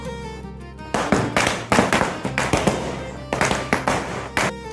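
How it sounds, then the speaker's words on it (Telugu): Diwali firecrackers set off outdoors, a single shot followed by a 5000-cracker string: a rapid run of loud, sharp bangs and cracks in dense uneven bursts, with brief gaps between clusters. "ఫస్ట్గా అయితే ఒక సింగిల్ షాట్ పేల్చి తర్వాత వెంటనే 5000 వాళ్ళు అయితే తీసేసాము"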